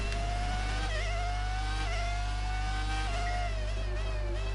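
A high-pitched Alfa Romeo Formula 1 car engine in the F1 2019 video game whines steadily with small pitch dips at gear changes, under a constant low hum, no talking.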